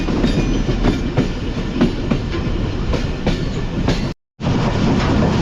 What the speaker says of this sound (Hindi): ट्रेन निकल रही है गदर रेलवे स्टेशन से